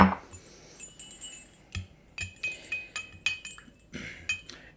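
A cocktail with a couple of dashes of Angostura bitters is stirred in a glass, giving a run of close, bright clinks and taps of ice and spoon against the glass in an uneven rhythm.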